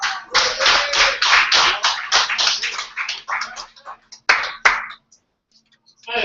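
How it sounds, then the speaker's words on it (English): Small audience at a gathering clapping for a few seconds, a loose burst of hand claps that thins out into scattered last claps before falling quiet, with a voice briefly heard at the end. "please give a big round of applause"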